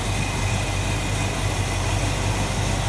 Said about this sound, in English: Here, how smooth this engine runs.